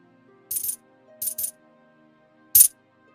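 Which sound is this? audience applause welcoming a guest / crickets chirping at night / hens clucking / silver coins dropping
silver coins dropping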